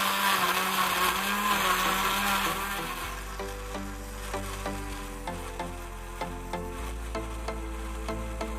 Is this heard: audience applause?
no